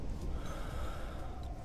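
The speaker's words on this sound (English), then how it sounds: "Oh, he's breathing." Heavy, snorting breaths from an injured crash victim in an accident-response video game, loud and close over a dense low rumble, with no talk.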